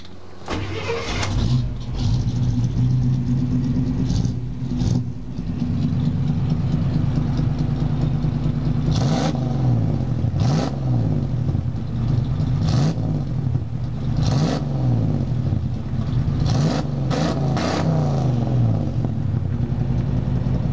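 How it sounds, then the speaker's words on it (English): A 1988 Chevrolet K5 Blazer V8 engine with a new exhaust idles loud and close with a deep rumbling exhaust, repeatedly revved in short bursts that rise and fall. "I'll at least start it up, let you guys hear the new exhaust."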